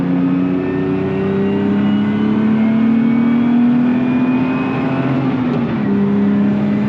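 A race car at full throttle on the Nogaro circuit, its engine droning loud and steady from start to finish, the pitch climbing gradually, then dipping briefly near the end before it rises again.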